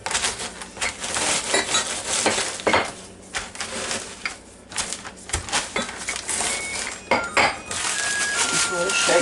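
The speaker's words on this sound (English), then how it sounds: "Just sort of shake the bag up and get them rolled around a little bit and squash them some more." Crackers being crushed in a bag with a rolling pin, with a continuous, close crackling and crunching that runs through the whole stretch in bursts of rustling and scraping.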